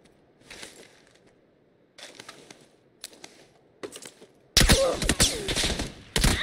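Scattered gunshots in a video game: faint distant bursts of rapid fire with short pauses between them, then a sudden loud close-range volley near the end.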